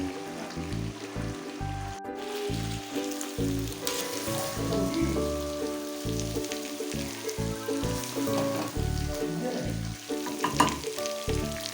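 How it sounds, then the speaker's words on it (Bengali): Meat sizzles steadily in a pan as it is braised for an anniversary party meal, a continuous frying crackle with occasional stirring through the whole stretch. "এখানে মাংস প্রায় কষানো হয়ে গেছে"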